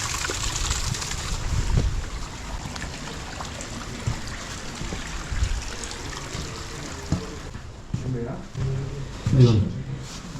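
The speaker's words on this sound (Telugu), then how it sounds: "ఇంటికి ఎంట్రీ ఒక చిన్న జలపాతం చూడండి." A small waterfall at the entrance of a guest house gives a steady rushing flow of water, with people talking over it throughout.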